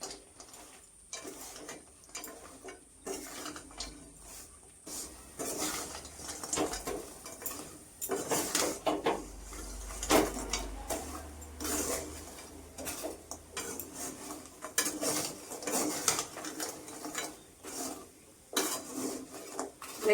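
Kathi goja coated in crystallising sugar being stirred in a pan over a very low flame, giving steady scraping and clinking of a spoon against metal with gritty rustles, no voices.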